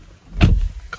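A BMW X5 xDrive45e M Sport door swings shut from inside the cabin, one solid close thud followed by a fainter click.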